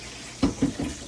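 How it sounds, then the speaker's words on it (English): Water from a kitchen sink tap while hands are washed, coming in a few short splashing bursts up close, with no talking. "Wash these hands real quick."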